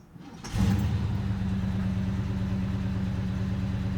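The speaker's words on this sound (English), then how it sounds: "The fans kicked in." Engine of a 1969 Ford Mustang Fastback idling steadily, with a loud low hum that rises abruptly as the cooling fans switch on and then holds constant, close by.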